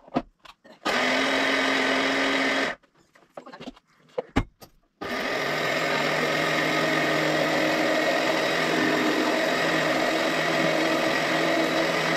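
A mixer grinder whirs loud and steady as it grinds batter for Konkani sweet appe. It runs in two bursts, with a short pause of clicks and handling in between and no talking.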